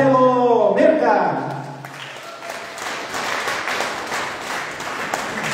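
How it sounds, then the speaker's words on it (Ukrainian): Audience at a charity concert applauding after a singer's introduction, a dense wash of clapping rising after a brief sung or spoken voice at the start and continuing steadily. "Дуже дякую за ваші оплески."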